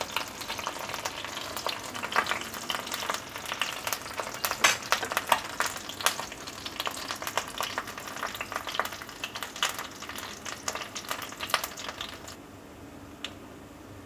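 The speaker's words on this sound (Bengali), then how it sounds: "আর আমি সাথে কয়েকটা শুকনো লঙ্কাও ভেজে নেব।" Leaf pakoras made from several kinds of leaves fry in oil alongside a few dried red chillies over medium-low heat, giving a steady close crackling sizzle with soft stirring clicks and no voices.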